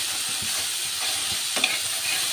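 Cooked greens with onion, garlic and two green chillies are stirred in a hot pan, giving a continuous close sizzle with soft repeated scraping strokes and no voices.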